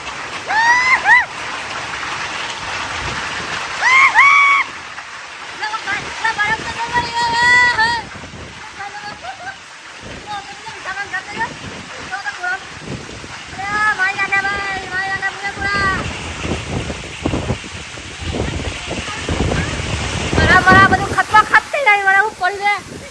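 Rain falls with hailstones in Kheralu, Gujarat, a broad rushing wash with clattering hits, while several people talk and exclaim loudly over it throughout.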